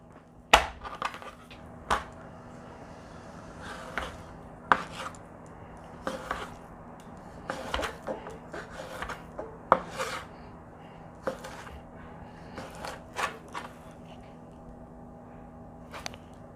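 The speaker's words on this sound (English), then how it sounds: "You're going to cut across this way." A sharp knife slices beef across the grain on a cutting board for beef ramen, giving a steady series of short, crisp cuts and scrapes, close up and alone.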